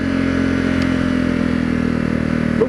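A Honda CRF250L motorcycle fitted with a Yoshimura RS4 exhaust runs with a loud, steady, close engine drone and exhaust rumble, holding an even pitch and level throughout the short clip.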